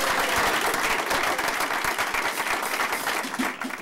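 Applause rises from the crowd at a Torrance business award ceremony, dense clapping from many people that starts full and gradually thins toward the end, with no voices on top.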